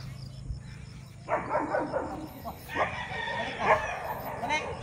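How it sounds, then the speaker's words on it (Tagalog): Dog barking near the Bitbit river, several sharp barks in two bursts mixed with rooster crowing outdoors, under background chatter. "May aso."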